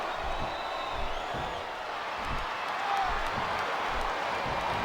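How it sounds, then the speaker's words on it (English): A wrestling crowd reacts with a continuous wash of cheering, jeering and applause, steady and moderately loud without clear peaks. "I think this crowd's giving these superstars a piece of their minds, King."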